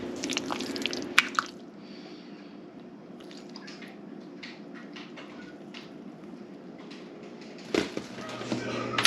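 Apple butter stirred in a crockpot makes soft, wet squishing and dripping sounds close by, with occasional sharper knocks of the spoon against the pot.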